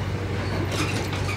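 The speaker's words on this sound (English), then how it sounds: "Taking the train back home now." Inside a moving passenger train, a steady low rumble and a broad wash of rolling noise hold at an even level, with no voices.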